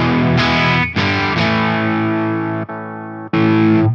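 Loud electric guitar through a Yamaha GW10 multi-effects unit on its medium crunch setting, with a few ringing overdriven chords struck in turn, each left to sustain and then muted briefly before the next.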